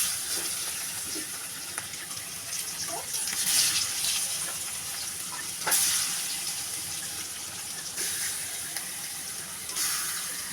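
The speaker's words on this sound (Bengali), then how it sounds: "গরম হয়ে গেছে এখন আমি মাছটা দিয়ে দেবো" Fish sizzles steadily as it fries in hot oil for a Bengali fish curry, a close, broad hiss that swells and eases with a few soft crackles.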